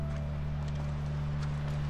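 Horse hooves clip-clop steadily in the video game The Last of Us, a quick rhythmic trot sitting over a constant low droning hum.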